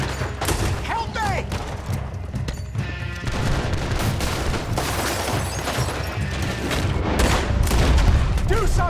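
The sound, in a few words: gunfire in Red Dead Redemption 2 video game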